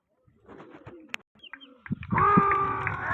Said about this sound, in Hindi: किसी छपरे उस्ताद का कबूतर है